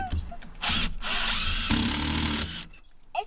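Cordless drill driving a screw into a composite deck board during a deck rebuild, a loud steady motor whine for about two seconds that ends with the board rattling, with a brief mechanical click before and after.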